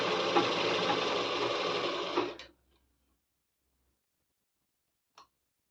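Sewing machine winding thread onto a bobbin, a steady close mechanical whir that runs for about two seconds and then stops, followed by silence and one faint click.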